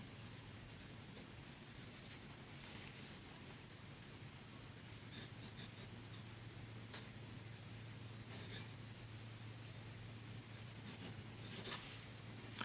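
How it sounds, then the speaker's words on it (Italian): Fountain pen with a medium nib writing in Fritz Schimpf Morgenrote ink, a soft continuous scratch of nib on paper with faint stroke accents, steady and close over low background hum. "Non dimentichiamo che stiamo scrivendo su un pennino medio."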